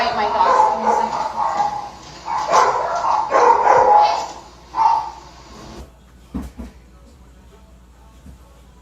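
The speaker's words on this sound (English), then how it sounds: "Let me go quiet my dogs." Dogs bark indoors in several loud, close bursts, clustered early and then tapering into a few scattered yips, with a voice talking in the same space.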